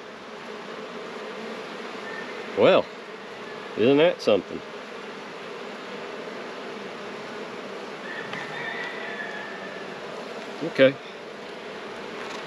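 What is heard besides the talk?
honey bees buzzing during hive inspection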